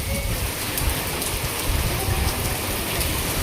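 Heavy downpour in Rajkot, a steady dense wash of rain drumming on surfaces close by, continuous and loud throughout with no voices.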